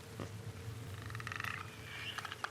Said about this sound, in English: those are actual actors doing those clicking noises